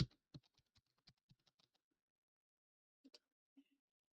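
Computer keyboard keys click in a quick run of taps, then pause, then a few more isolated presses, faint and close in a quiet room.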